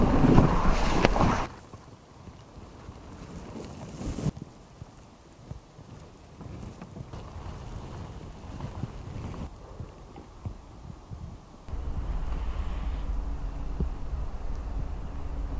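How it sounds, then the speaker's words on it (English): A cold November breeze buffets the microphone on a canoe trip in Algonquin Park, with gusty low rumbling wind that rises and falls, bursts loudly at the start and strengthens again toward the end. "I really wish you guys could experience how bone-chilling this breeze is."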